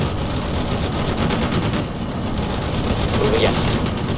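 Sustained gunfire and explosions from battle in the real-time strategy game World in Conflict, a dense continuous din with voices calling out over it.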